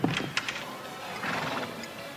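A horse hitched to a caravan lets out a sharp whinny at the start, followed by softer snorting and faint clip-clop in a quiet outdoor setting, no talking.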